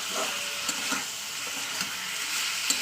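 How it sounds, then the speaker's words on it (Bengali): Spices with salt and turmeric stir-frying in hot oil, a continuous close sizzle broken by soft periodic scrapes and taps of a spatula against the pan. "লবণ হলুদ দিয়ে দিয়েছি এবার এটা ভালো ভালো করে কষিয়ে নেবো"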